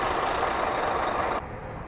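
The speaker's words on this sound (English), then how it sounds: "so we've picked our trailer up and now we're on the way back to the yard with it" A truck pulls an empty trailer on the road, its engine and road noise a steady, loud broadband rumble that drops off sharply near the end.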